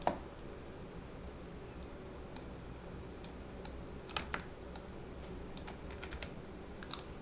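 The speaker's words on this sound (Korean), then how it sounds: "클릭, 클릭, 시프트 누르고 클릭해서 둥글게 이렇게 작업을 합니다." A computer mouse clicks while shapes are drawn in graphics software, with some clicks made while Shift is held; sparse, faint, close clicks come singly and in quick pairs against a quiet room.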